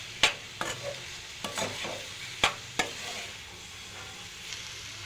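Radish fry with lentil spice powder is stirred in a hot pan, with a spatula striking and scraping in sharp, irregular clanks over a soft, continuous sizzle, close by and without talk.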